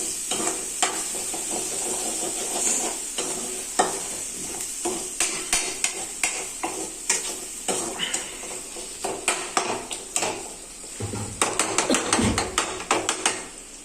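Tomatoes and curry leaves sautéing in a pan for chicken gravy, a constant sizzle under rhythmic stirring and sharp spatula knocks against the pan that grow busier toward the end, close and fairly loud, without talk.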